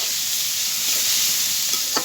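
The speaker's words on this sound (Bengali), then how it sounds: "পেঁয়াজটা লাল লাল করে ভাজা হয়ে গেছে, দিয়ে দিলাম শাক, দিয়ে হচ্ছে ভালোভাবে ভেজে নিব" Spinach greens added to onions already fried deep red, sizzling steadily in a hot pan with a few stirring scrapes near the end, close and fairly loud, no talk.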